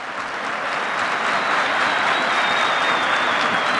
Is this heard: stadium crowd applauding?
yes